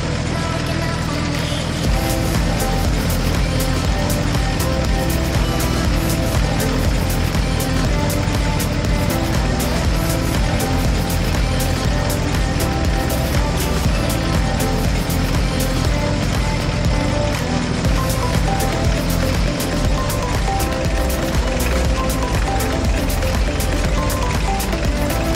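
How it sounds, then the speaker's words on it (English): Tractors and vintage farm machines drive back to the farm after a day of potato harvesting, their engines producing a steady, loud, continuous rumble and drone that runs throughout without pause. "After a long day of work, all the machines returned to the farm."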